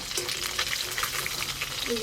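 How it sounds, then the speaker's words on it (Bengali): Snakehead fish fry in a pan of oil with a continuous dense sizzle and faint spattering pops, heard close up with no talk. "শোল মাছগুলো বেশ ভালো করে ভাজা ভাজা হয়ে গেলে এবার তুলে নেবো"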